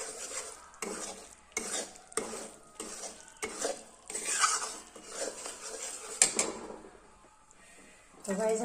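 Halwa ingredients are roasted and stirred in a pan, producing repeated scraping strokes with a soft sizzle, regular at first and then more continuous, close by, with a voice occasionally in the background.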